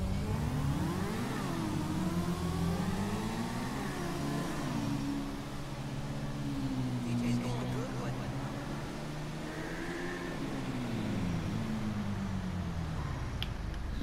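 Motorcycle engines rev in Grand Theft Auto Online, a steady mid-pitched drone with rising and falling pitch sweeps as riders accelerate, continuous throughout and mixed with faint talk.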